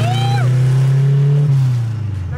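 A warmed-up Chevrolet Chevette engine runs while driving with a close, loud, steady low drone that dips slightly in pitch near the end, and a brief whining tone rises above it at the start.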